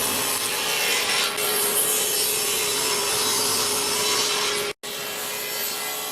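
A hand saw cuts through wood to rough out a mallet handle, a steady rasping stroke sustained for several seconds before a brief pause and more sawing, close and loud with no talking.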